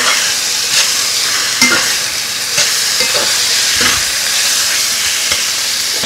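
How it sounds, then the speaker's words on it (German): Pieces of chicken fry loudly in a hot pan over softened onions, a steady dense sizzle with a few scraping stirs and clinks of a utensil throughout, no voices. "gebe ich jetzt unser Hähnchen hinein. Und brate das gut an."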